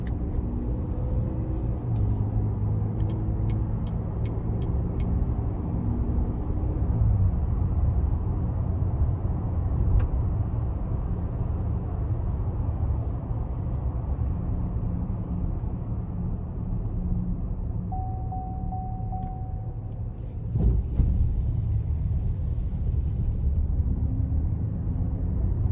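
A 2021 Chevrolet Traverse Premier Redline Edition with a 3.6 AWD engine driving in all-wheel drive mode, a steady low engine and road rumble heard from inside the cabin, constant and even throughout.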